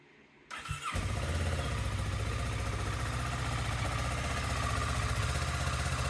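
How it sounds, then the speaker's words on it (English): A 2015 Kawasaki Ninja 650 motorcycle starts with a brief crank, then settles into a steady, close, loud idle as it warms up before a coolant flush, the engine running continuously with no talk. "start up the bike and let it warm up such that the fan comes on so you know the coolant is cycling through"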